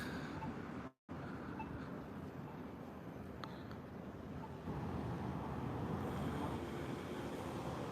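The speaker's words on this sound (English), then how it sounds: "It's pretty windy tonight." Steady wind roars and buffets the microphone outdoors at night, a constant broad rush with a brief cutout near the start.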